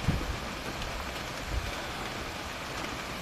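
Steady rain falls outdoors at a shooting range, a dense even hiss of drops throughout with a couple of soft low thumps near the start.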